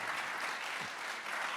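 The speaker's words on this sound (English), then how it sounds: "Give him a clap or something." Audience applause greeting a guest assemblyman at a talk, a steady even wash of many hands clapping, fairly faint and distant with no voices over it.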